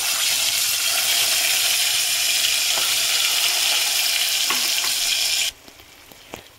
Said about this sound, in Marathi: आता आपलं तेल गरम झालेलं आहे. त्यानंतर मी थोडा मसाला आता यामध्ये ॲड करणार आहे.